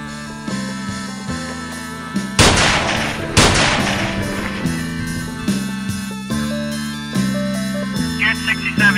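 Two loud, sharp gunshots about a second apart ring out over steady tonal background music, with a brief reverberant tail after each.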